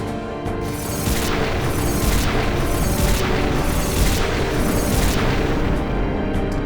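A Fire Gem item attack in Final Fantasy X erupts in a sequence of heavy booming explosions, about five rolling blasts in a steady rhythm, loud and sustained.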